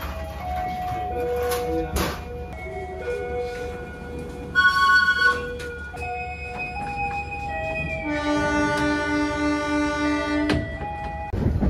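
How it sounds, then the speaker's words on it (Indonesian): A Kahuripan passenger train rolls along a winding track between Cipeundeuy and Leles, with steady rumble and wheel noise, sustained squealing tones as it rounds curves, and a blast of horn-like tones midway, heard from inside the carriage. "Jalur kereta dari stasiun Cipendei ke arah stasiun Leles ini berbelok-belok dan goncangannya cukup terasa banget."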